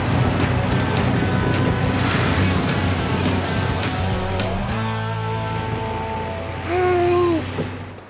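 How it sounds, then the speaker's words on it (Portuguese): Cartoon water rushes in with the rising tide through a dug canal, a broad steady surging wash that eases off toward the end, with a short tonal sound layered briefly near the close. "Lá vem a água."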